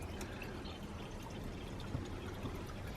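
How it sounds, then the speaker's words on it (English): Water poured into a jar for a caravan toilet paper comparison, a soft steady trickling and filling sound, faint and continuous with no voices. "So first of all, let's put the water in to"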